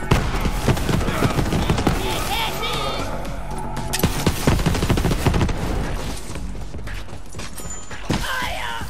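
Dense gunfire rattles through a Borderlands 3 battle in Floodmoor Basin, rapid loud bursts mixed with crashes and mechanical clanks, with in-game voices talking over the chaos.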